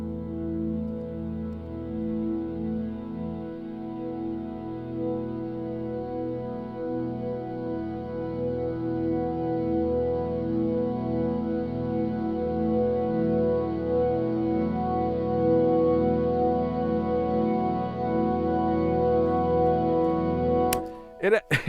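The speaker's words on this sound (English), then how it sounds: "I picked one note and I just simply stretched that note in Paul Stretch into something entirely new" A single sung vocal note stretched in Paul Stretch into a long organ-like pad, heard as a steady, swelling sustained drone that ends in a brief burst of noise, with no talking.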